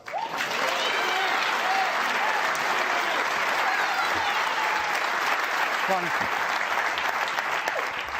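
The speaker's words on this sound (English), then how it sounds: "a terrific round of applause for that" A snooker crowd at the World Championship applauds a frame-winning red, sustained loud clapping filling the arena from start to finish, with a commentator's voice briefly heard under it.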